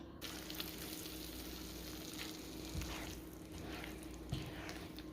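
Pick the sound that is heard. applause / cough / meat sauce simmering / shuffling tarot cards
meat sauce simmering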